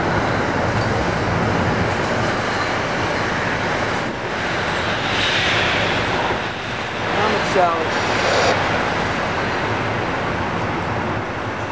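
A deadhead passenger train consist passes at a station, a loud sustained rumble and rolling wheel noise with faint squeals, close by, while voices murmur in the background.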